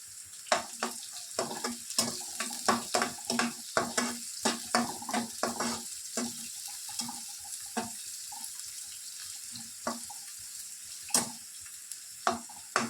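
Sliced onions sizzle in a hot pan for cheese pasta while a spoon stirs them, giving a steady run of sharp scraping clacks over a soft fry hiss, loud and close with no talk.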